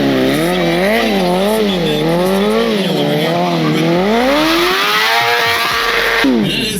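A stunt motorcycle ridden by professional stunt rider Chris "Teach" McNeil carves tight circles; the engine wails and rises and falls in pitch, with tire squeal, loud and close throughout.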